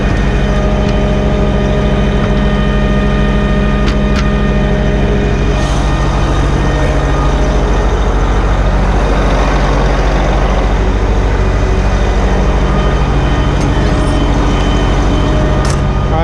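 A PTO-driven vacuum pump runs on an oilfield vac truck in the Bakken, giving a loud, steady mechanical drone with a heavy low engine rumble that continues unbroken and stays close throughout.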